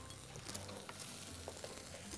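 Food boiling and sizzling in a pan in a busy kitchen while mushrooms and whipped cream are being cooked, a faint steady bubbling hiss with small pops, heard alone without talk.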